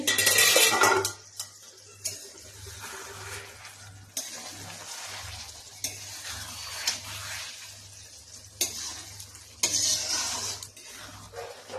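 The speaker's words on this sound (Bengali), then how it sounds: "চিংড়ি মাছের ঢাকনাটা উঠিয়ে দিচ্ছি।" Prawns cooking in a pan after its lid comes off, with a burst of sizzling at the start, then clinks and scrapes of utensils against the pan over a low hum and a faint fry.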